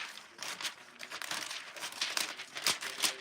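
Pink heat-release foil being cut for a jean jacket, a steady run of soft, close crinkling and snipping rustles with no talk.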